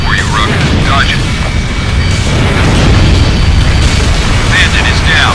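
A shot-down enemy aircraft explodes in an Ace Combat Infinity air battle, a loud, rumbling boom over continuous jet roar that carries on for several seconds, with radio chatter from voices breaking in over the blast.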